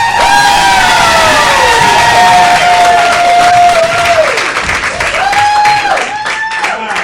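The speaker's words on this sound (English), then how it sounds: "Big round of applause for Miss Georgia Soares." A comedy playhouse audience applauding and cheering as a stand-up comic is introduced, loud and continuous, with music tones and crowd voices running through it.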